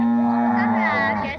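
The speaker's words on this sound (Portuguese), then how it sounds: "Ferrou essa vaca berrando." A cow moos loudly and long, one sustained bellowing call with a steady, rich tone, close to the listener.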